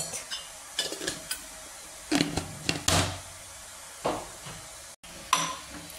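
Spinach palak bhaji being stirred in a pan with salt and a little turmeric, a few scraping spoon strokes against the metal coming in short bursts over a faint background hiss.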